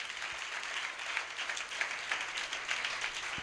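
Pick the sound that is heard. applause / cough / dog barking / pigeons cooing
applause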